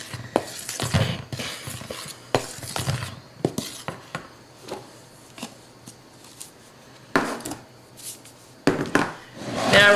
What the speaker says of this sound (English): Now we're gonna stir our dry ingredients, kind of mix them all in